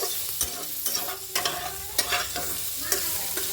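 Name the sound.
boiled cauliflower being stirred and fried in oil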